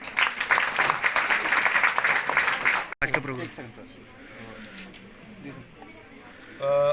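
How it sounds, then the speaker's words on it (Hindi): Loud audience applause at a children's HIV symposium held at a government medical college maternity hospital in Jammu: a thick burst of clapping for about three seconds that stops abruptly, followed by a person talking. "जोरदार तालियां।"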